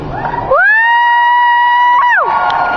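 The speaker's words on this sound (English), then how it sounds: "Please cheer if you got into Veronica Mars after we were canceled." At the Veronica Mars panel at San Diego Comic-Con 2013, a convention hall audience cheers loudly, with one long, high, sustained shriek rising above the crowd noise before it dips back down.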